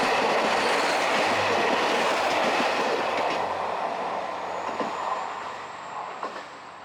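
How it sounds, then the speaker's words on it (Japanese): The first morning train pulls into Hirafu station in Hokkaido at about 6:30 a.m., rumbling and clattering loudly along the rails, with faint wheel squeal, then easing off as it slows. "平布駅朝一番列車の到着です。"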